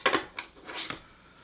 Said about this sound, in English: Let's rip shuffle.